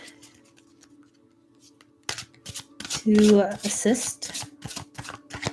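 Tarot cards are shuffled and drawn by hand. Quick bursts of papery riffling and snapping sound close by, between and under a person talking.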